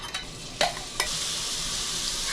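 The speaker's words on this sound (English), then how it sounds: "Olive oil to the pan to get the chicken in." Chicken sizzles and crackles in hot olive oil in a non-stick pan, with a couple of sharp clinks early on, then a steady, loud frying hiss.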